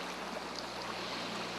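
A stream of water flowing down from the mountains at the foot of Serra da Canastra National Park in Minas Gerais, a steady, full rushing wash with no breaks and no voices.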